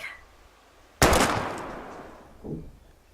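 A single sharp gunshot in the video game Life Is Strange, fairly loud, with a long echoing decay and a fainter thud about a second and a half later.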